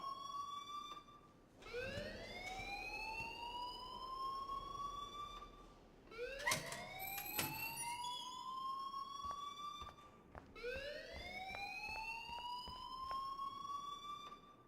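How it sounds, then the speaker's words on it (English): A fire alarm in the Life is Strange video game wails in repeated rising sweeps, three long cycles with short gaps, loud and alone with no talk over it. "please turn off that alarm since that's your job"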